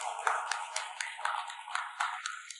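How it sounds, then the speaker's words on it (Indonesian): An audience at an award ceremony claps as a student comes up on stage, sharp hand claps in a steady, fairly regular rhythm, moderately close and fading at the end. "Tepuk tangan yang meriah."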